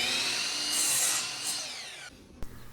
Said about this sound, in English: I'll start by putting a 45-degree miter on one side